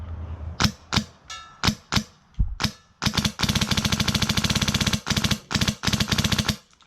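A new semi-auto/full-auto capable gun firing: an opening string of separate spaced shots, then a long rapid burst of sharp cracks with a few brief gaps, loud and close, no talk.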